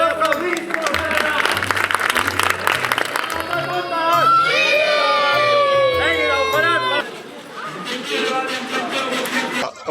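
Audience applause after a children's storytelling show, clapping and crowd hubbub mixed with music and voices, steady and fairly loud throughout.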